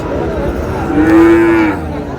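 A Sahiwal cow or bull at a cattle market gives a single loud, close moo lasting under a second, with market bustle faintly beneath.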